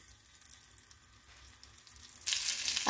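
Eggs frying in hot oil seasoned with red chili and salt for Mughlai egg korma, a steady close sizzle that swells louder and brighter toward the end, with no talking.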